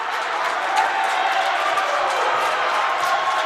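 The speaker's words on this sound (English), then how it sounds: "Crowd giving her a little bit of a cheering as she is got to be carried off" Crowd at a women's college basketball game cheering as an injured player is carried off, a steady, moderate wash of cheers and murmur filling the gym.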